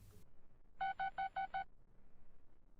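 A quick run of five short electronic keypad tones, evenly spaced, like a phone number being dialed, clear against a quiet background.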